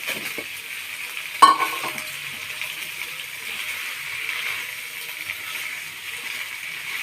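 A pan of potatoes frying gives a steady close sizzle, with a sharp clatter and a brief louder burst as a fish head drops in, then a continuous hiss of frying.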